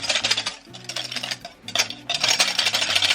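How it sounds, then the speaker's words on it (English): An electric mixer beats batter in a home kitchen, a steady whirring drone with rattling, clattering bursts as the beaters knock against the bowl, loud and close with no talking. "Switching to the electric mixer."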